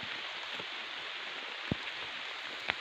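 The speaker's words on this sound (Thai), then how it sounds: "ฝนก็โปรยอยู่อย่างนี้มาสองสามครั้งนี้แล้วนะครับ" Light rain falls steadily during night rubber tapping, making a soft, even hiss with a couple of faint drips or ticks and no voices.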